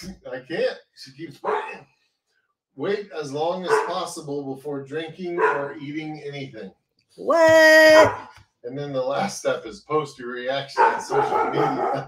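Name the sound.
dog barking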